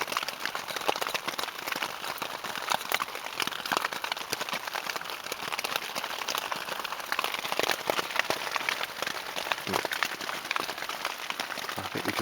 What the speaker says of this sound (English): it did rain, and it rained, and it's still raining